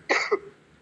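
A single short cough from a person, close and fairly loud, with no talk around it.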